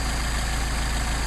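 A carbureted engine idles smoothly and steadily right after its carburetors were adjusted, a close, even low rumble that holds through the short stretch with no voices.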